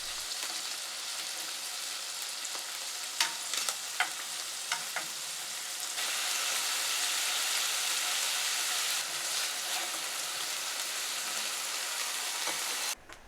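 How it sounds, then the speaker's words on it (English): Pieces of fish frying in butter in a pan over medium heat, a steady bright sizzle with a few crackling pops, growing louder partway through and cutting off at the end. "Cook the pieces of fish for 1 minute each side."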